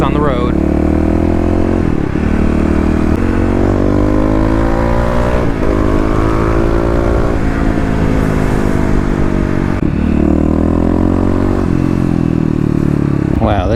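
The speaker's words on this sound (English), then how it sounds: "KLX definitely likes a lot of throttle now coming off a stop" Kawasaki KLX351 dual-sport motorcycle pulling away from a stop in heavy traffic, the engine revving up through repeated throttle surges and gear changes, loud and close, with a rider talking over it.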